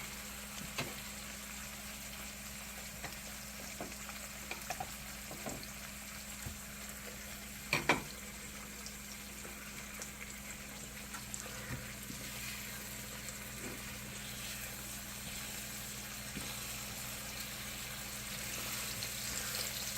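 An egg fries in a pan with a steady, soft sizzle and crackle that continues throughout, broken by a couple of brief clinks of a spatula, no voices present.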